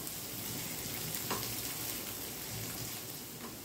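Chopped onion sizzles in a teaspoon of olive oil in a pan, a steady close crackle and hiss with a couple of faint clicks.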